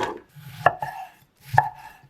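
A knife cuts carrots into bite-size pieces on a cutting board, two distinct close chops about a second apart in a quiet room.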